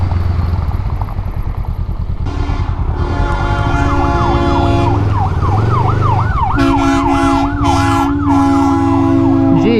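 An ambulance siren wails loud and close to a two-up motorcycle on the road, its rising and falling tone cycling steadily over a constant engine and wind roar, fading briefly then returning strongly.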